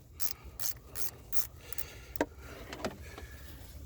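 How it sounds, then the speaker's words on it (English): A small wrench ratchets off the positive terminal of a 2017 Toyota Camry's battery, giving several quick raspy clicking bursts, then a few sharper metallic ticks nearby with no talking. "Take off the positive terminal quickly and easily here with a little wrench."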